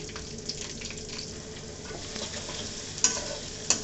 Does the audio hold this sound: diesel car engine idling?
no